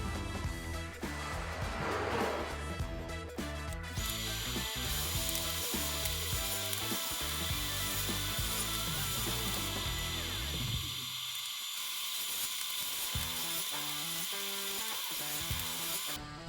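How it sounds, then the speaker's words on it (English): Table saw ripping a wooden board for a spice rack, the motor whining steadily while the blade bites in with a rising, harsh cutting roar that drops away near the end before the motor spins on, loud and close. "So I'm gonna go to the table saw, cut it off one side a little bit bigger than my finished width"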